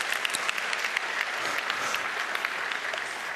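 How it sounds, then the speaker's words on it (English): An audience at a hacker congress talk applauds, a dense, steady wash of many hands clapping with sharp individual claps scattered through it, heard alone. "you can applaud that if you wish."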